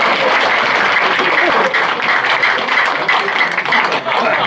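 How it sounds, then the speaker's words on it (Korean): A crowd at a lecture during a club's regular meeting claps loudly and densely throughout, a continuous wash of applause close to the listener. "박수 한번 주세요."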